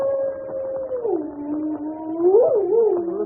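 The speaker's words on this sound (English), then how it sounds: "Listen to that dog. He's in an ugly temper." A dog howls in a 1946 old-time radio drama on a stormy night, a loud, sustained, wavering howl that rises and falls, close and alone, with no voices.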